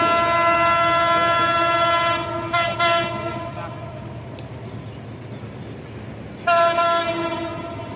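A Bangladesh Railway Paryatak Express passenger train on the Chittagong route rumbles past loudly and close, its horn blaring in a long sustained tone, then cutting off and sounding again later.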